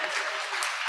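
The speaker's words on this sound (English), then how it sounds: "got some claps out there, that's what's up" Conference panel audience clapping steadily for about a second, a dense, even burst of applause filling the room.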